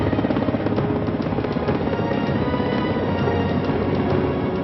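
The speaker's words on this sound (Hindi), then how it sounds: "एयरफोर्स का हेलीकॉप्टर उन्हें मंजिल तक पहुंचाता है।" An Indian Air Force helicopter carrying Garud commandos: a steady, continuous rotor and engine drone with rapid chopping pulses, holding loud and even throughout, with no voices.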